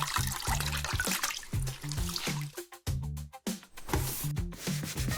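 A wet cloth is rubbed and wrung over a bucket of water, giving repeated trickling, dribbling and scrubbing sounds in uneven bursts, close by, with brief pauses between strokes.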